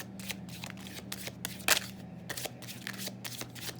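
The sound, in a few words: shuffling and drawing tarot cards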